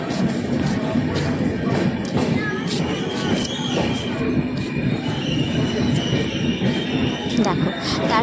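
A train rumbles steadily at Durgapur railway station, with metallic wheel squeals and occasional thumps, loud and continuous for several seconds, with some voices in the background.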